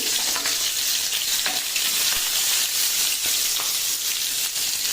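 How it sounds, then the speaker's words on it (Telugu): Eggplant (brinjal) pieces sizzle steadily in oil in a pan for a home-style curry, a continuous bright hiss with occasional soft stirring clicks, close and fairly loud, no voices. "ఈ వంకాయలు బాగా మగ్గుతున్నాయి."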